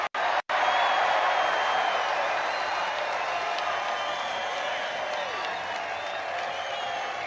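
Large crowd at a Trump campaign rally, a broad steady roar of cheering and applause that swells in after a brief break and holds loud throughout, with scattered whoops.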